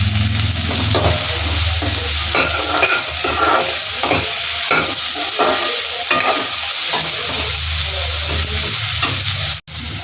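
Chopped onions fry with turmeric in hot oil for a brinjal curry, a loud steady sizzle with repeated scraping stirs of a spoon across the pan, no talk.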